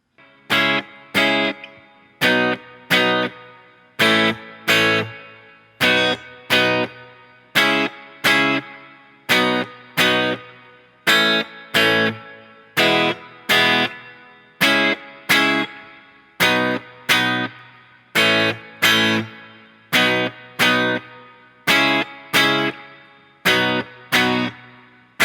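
Distorted, effects-laden guitar strums out a song's chord progression, sharp rhythmic chord hits repeating steadily for about twenty-five seconds, loud and alone with no talking.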